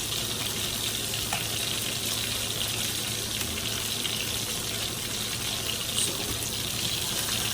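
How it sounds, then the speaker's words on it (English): Cold tap water runs steadily over cooked pasta noodles in a kitchen sink, a constant close hiss and splash with no talking and no breaks. "I'm going to run some cold water, get these noodles over here"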